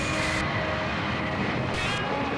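A fixed-wing airplane roars at full power during a takeoff run in a 1997 TV miniseries, a loud steady engine rush throughout with faint voices underneath.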